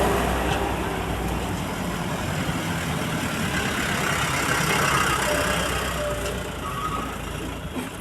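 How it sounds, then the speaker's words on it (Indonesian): Heavy trucks rumble past on a busy road beside a new port, a steady broadband engine roar holding loud throughout with no talk. "Mobil-mobil truk lalu lalang di sini"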